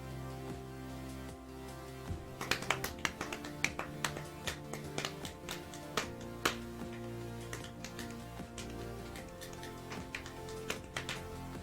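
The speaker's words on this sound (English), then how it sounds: "That's me clapping my leg." Irregular sharp slaps of a hand clapping against a leg, a scattered series of close, crisp smacks over a steady low background hum, no talking.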